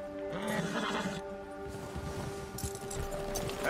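A horse whinnies in Red Dead Redemption 2 during an outdoor spring storm, with a drawn-out neigh over rough ambience, game music and hoof clops. No one speaks.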